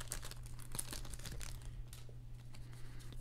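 The crinkly plastic wrapper of a Magic: The Gathering Core Set 2019 booster pack rustles and crackles in close, soft bursts, with a low steady hum underneath.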